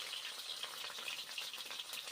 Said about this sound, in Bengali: ভেজে নিই ঢ্যাঁড়সগুলো